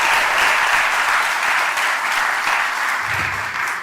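A large audience at a secondary school graduation ceremony claps steadily and loudly throughout, a dense continuous wash of applause.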